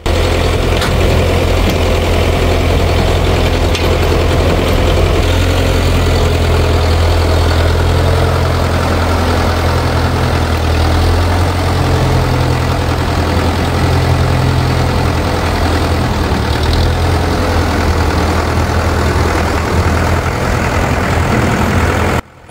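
An old tractor engine idles steadily with a low, chugging rumble while lifting an old Y-block engine, continuous and close for the whole stretch with no talking, cutting off abruptly at the end.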